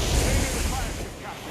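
Ship cannon fire during a naval battle in Assassin's Creed Black Flag, heard as a dense, continuous rumbling boom with heavy low-end roar, loud and sustained throughout.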